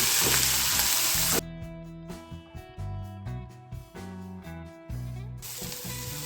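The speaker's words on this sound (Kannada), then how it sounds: "ಉಪ್ಪು ಕೂಡ ಸೇರಿಸ್ಕೊಳ್ಳೋಣ ಚೆನ್ನಾಗಿ ಫ್ರೈ ಮಾಡ್ಕೊಳ್ಳೋಣ" Cluster beans with coconut and salt fry in a pan, a loud broadband sizzle with stirring clatter in the middle stretch, then the sizzle swells again near the end.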